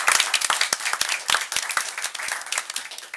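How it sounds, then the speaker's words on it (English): An audience at a school board meeting claps in a steady round of applause, with dense, broadband patter that stays fairly even throughout and no voices on top. "Let's give another round of applause."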